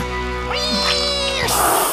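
A cartoon cat meows in a rising, stretched wail that bends up and down over continuous background music, then gives way to a sudden burst of noisy hiss at the end.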